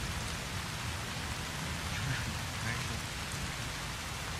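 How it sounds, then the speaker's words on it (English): Steady rain pours down in Fallout: New Vegas, a dense, even hiss of drops hitting surfaces that holds for several seconds, close and fairly loud with no break in the wash. "Fucking rain. It's killing my damn frame rate at times."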